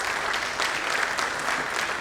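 A hall audience at an engineering award ceremony applauds Professor M.M. Sharma on receiving the IIChE Platinum Jubilee Award, with steady, dense clapping from many hands and no voices over it.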